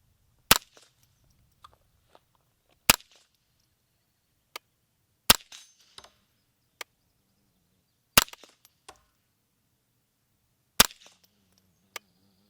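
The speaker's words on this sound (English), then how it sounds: "we're going to basically shoot a couple different types of ammunition out of the Ultimate 1022" A .22LR Ruger 10/22 survival rifle fired with subsonic, high-velocity and bulk ammunition, five sharp cracks a few seconds apart with fainter clicks and handling noises between them, outdoors and fairly close.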